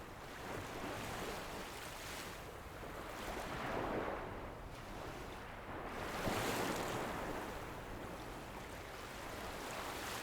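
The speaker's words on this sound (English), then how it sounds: "the waves seem somehow heavier as the long afternoon turns toward evening" Ocean waves wash onto a beach in the late afternoon, a soft continuous surf with gentle swells rising and falling, distant and fairly quiet with some wind.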